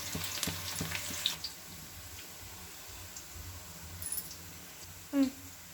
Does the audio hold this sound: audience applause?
no